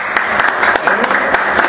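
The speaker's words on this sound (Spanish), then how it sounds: "queremos darle un fuerte aplauso" Studio audience on a TV talk show claps loudly and briskly for the whole moment, a close, dense burst of applause with scattered louder claps.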